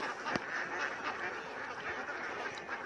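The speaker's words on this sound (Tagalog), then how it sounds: "Nasa palayan lang yung mga itik." A flock of ducks quacks in a rice field, a busy chorus of overlapping calls from many birds at moderate distance, fairly faint and steady throughout.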